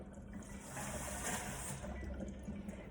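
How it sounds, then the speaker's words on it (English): Water poured into a bottle, a faint splashing gurgle that swells in the middle and trails off, heard up close with no talk. "I'm going to put a bit of water into this bottle"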